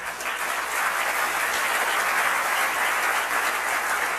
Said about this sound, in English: So a round of applause to these guys.